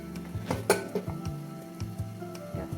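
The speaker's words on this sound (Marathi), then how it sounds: "आपण आता फोडणी दिलेलं आहे भाजीला" Vegetables sizzle and crackle in hot tempering oil for raw-tomato dal, with sharp clinks of a spoon against the pan scattered over a steady low fry.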